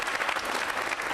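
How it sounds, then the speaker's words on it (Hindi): Brief burst of audience applause at a quiz show on organ donation with the Rajasthan health minister, dense and even clapping all the way through. "तालियां जोरों से बजाइए इनके लिए"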